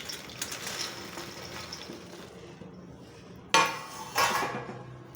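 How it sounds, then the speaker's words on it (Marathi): Fox nuts (makhana) tipped into a pan, a sudden sharp rattling patter followed by a second burst, after a few seconds of quiet scraping and clinking, close and unaccompanied by speech. "आता आपल्याला इथे मखाने टाकून घ्यायची आहेत"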